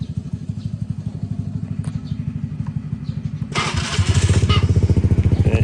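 Motorcycle engine idling after a cold start while warming up: close, rapid chugging pulses, then a sudden rise in revs brings a louder, rougher exhaust note with harsher clatter, and no speech.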